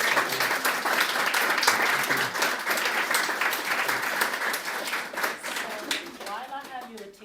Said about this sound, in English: let's applaud for you first.